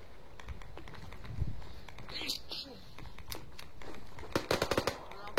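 Sharp cracks of gunfire from a game, a quick rapid cluster near the end, under steady background noise and faint voices.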